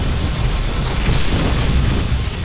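A Photon Cannon blows apart in a StarCraft II battle, a dense rumbling boom layered with continuous explosive crackle and battle noise that stays loud throughout.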